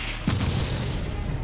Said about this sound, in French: Malheureusement, l'explosion n'a pas eu l'effet voulu!